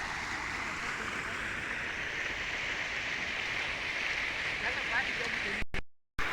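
Water rushing steadily into a farm irrigation channel, a broad, continuous wash heard up close that stops abruptly near the end.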